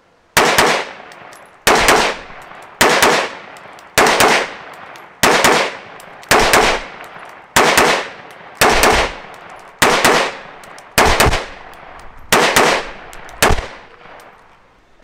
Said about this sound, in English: I got about 24 or 25 rounds of Tula loaded up. We're just gonna burn through this real fast.